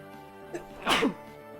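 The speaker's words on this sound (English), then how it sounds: "Oh, I can sneeze" A single sharp sneeze, preceded by a quick inhale, bursts out close and fairly loud against a quiet background.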